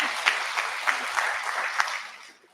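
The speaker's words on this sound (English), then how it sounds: "Give her a round of applause." An audience at a live mastermind event gives a short round of applause, steady clapping from a crowd that fades out over the last half second.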